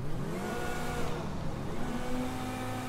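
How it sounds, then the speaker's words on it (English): Vysser Neo sports car in GTA V, its engine revving up and down in smooth rising and falling sweeps, loud and close with no talk over it. "Let's just listen to the engine."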